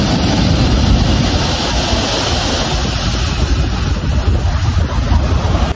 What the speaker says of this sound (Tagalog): Napakaganda rin talaga makinig ng hampas ng alon ng dagat.